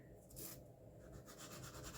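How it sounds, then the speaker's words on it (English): A sanding disc rubbed lightly back and forth over a scored line in white core cardstock, giving a soft, close, continuous rasping scrape with repeated strokes. "I am going to take my sanding disc and just lightly go over"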